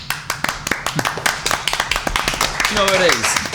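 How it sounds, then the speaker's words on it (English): A small group claps in a quick, even rhythm to greet a band on a podcast; the close, sharp claps run on under a voice, which speaks a brief question. "It's a long applause."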